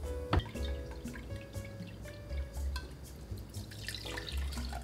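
Half a cup of apple cider vinegar is poured for a summer salad, giving a light, close trickle of liquid with small drips and faint clinks in a quiet kitchen.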